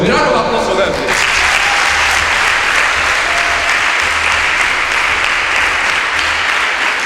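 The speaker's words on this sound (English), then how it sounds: "A round of applause for them," An audience at a debate on Nigeria's system of government breaks into loud, sustained applause, steady clapping filling the whole stretch after a brief moment of talk at the start.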